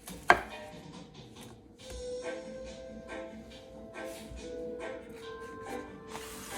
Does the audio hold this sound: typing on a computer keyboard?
no